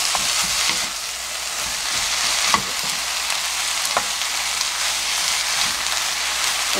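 Onions stir-fry in a pan for onion jam, a dense steady sizzle close up with occasional spatula scrapes and taps against the pan.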